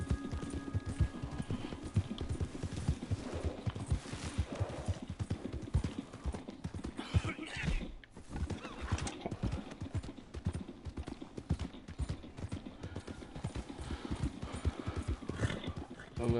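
Horse hooves clip-clopping at a steady riding pace in Red Dead Redemption 2, continuous throughout with a brief whinny, a sustained game ambience beneath and occasional faint talk.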